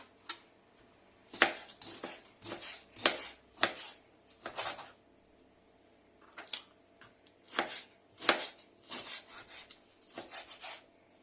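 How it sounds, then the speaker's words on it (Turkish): Knife chopping raw chicken breast into cubes on a cutting board, a close series of sharp irregular thuds in two bursts separated by a short pause, with no talk. "Tavuklarımızı da doğrayalım."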